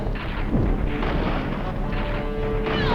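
A rocket launcher explosion booms in Resident Evil 3, a loud sustained blast with a rumbling, crashing roar that fills the whole moment, with no voices over it.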